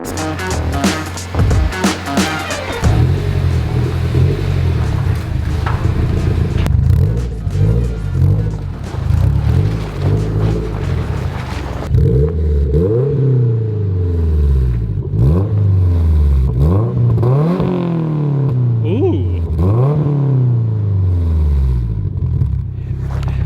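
A Subaru engine with an aftermarket header revs repeatedly, rising and falling in pitch, loud and close, with a raspy exhaust note and clattery idle before the revs.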